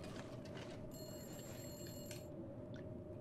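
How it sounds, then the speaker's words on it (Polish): Telephone ringing in the survival video game The Long Dark, a steady electronic ring over dense low wind-like noise of a storm, with no talk. "Odbierz telefon."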